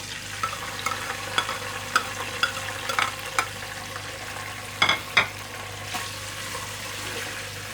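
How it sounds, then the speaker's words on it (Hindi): Dry fruits and nuts fry in hot oil in a pan for sheer khurma, a steady soft sizzle punctuated by regular clinks and scrapes of stirring, with a couple of louder clattering knocks near the end. "अब हम इसी ऑयल में मेवे फ्राई करते हैं अपने।"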